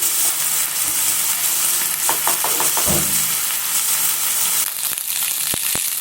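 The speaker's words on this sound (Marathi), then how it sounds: "आता हे तांदूळ तुपावर छान परतून घ्यायचे आहेत आपल्याला सर्वप्रथम." Rice grains sautéed in ghee in a pot for sweet coconut rice, a continuous loud sizzle with scraping stirs and a few sharp clinks of the spoon against the vessel.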